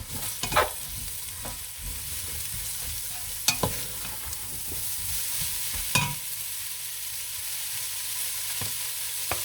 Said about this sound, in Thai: หอมเนี่ยเขาต้องต้องพัดใจเย็นๆด้วยจ้ะพัดไฟอ่อน ๆพัดจนหอมเละเลยจ้ะ